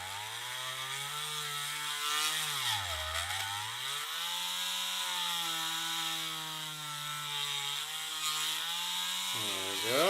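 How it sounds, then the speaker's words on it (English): A Dremel rotary tool running at higher speed with a bigger burr grinds steadily at close range, a whining motor tone that dips briefly under load twice, heard alone. "I'm going to go on a higher speed here, just a little bit on my Dremel"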